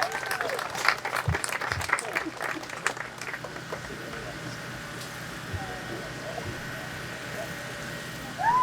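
Outdoor crowd at a lumberjack show claps for a few seconds, loud at first and then fading into open-air ambience with a faint steady hum and a short tone near the end.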